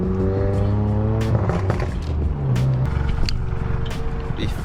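A VW MK7 GTI with an EQT tune and a muffler-delete exhaust revs and runs loud and raspy, with shifting tones, crackles and pops close to the listener.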